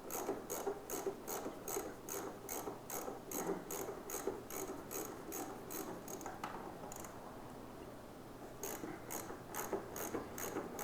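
A hand ratchet backs out the 14mm bolts on the right front brake caliper of a 2014 Honda VFR800F, with quiet, rapid rhythmic clicking that pauses briefly and then resumes.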